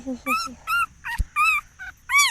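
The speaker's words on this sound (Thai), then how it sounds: "ดูลูกหมาตัวนี้สิ" A puppy whimpers and yips in a string of short, high, whining cries with brief pauses between them, close and fairly loud.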